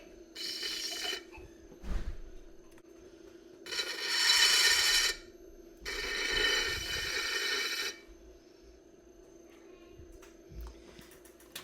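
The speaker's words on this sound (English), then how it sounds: "So then we're going to take our trimming tool and trim off any excess." Trimming tool shaving excess clay from a wheel-thrown Christmas tree tea light cover on a spinning pottery wheel: three bursts of raspy scraping, each a few seconds long, over the steady hum of the wheel motor.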